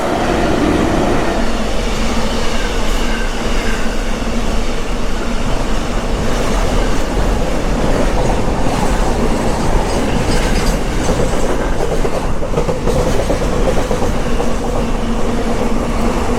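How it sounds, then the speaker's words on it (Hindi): A freight train hauled by a WAG7 electric locomotive rolls past on an Indian rail line, a loud, steady rumble with continuous clickety-clack of wheels over rail joints throughout, close and unbroken with no talk. "मालगाड़ी"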